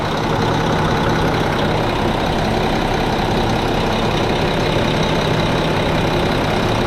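A Mack truck diesel engine idles steadily, loud and close, a dense continuous rumble with no break and no voices.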